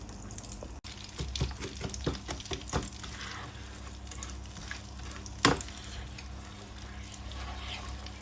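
Walnut halwa with brown sugar cooking and being stirred in a pan, with quiet sizzling and scattered scraping clicks, plus one sharp clank partway through.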